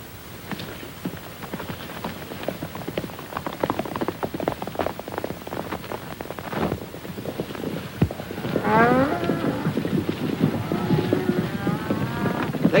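Cattle moo partway through over a constant background of rain-like patter and shuffling, the calls rising and falling a few times.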